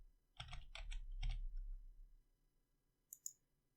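Quick typing on a computer keyboard, a short burst of clicking keystrokes up close, then a pause and a couple of lighter taps at the end.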